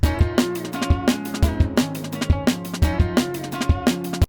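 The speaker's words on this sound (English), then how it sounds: "we've literally just taken a loop for a guitar and then also a drum loop" A looping guitar riff plays over a steady drum beat, with punchy kicks and snares repeating in a tight, even rhythm throughout.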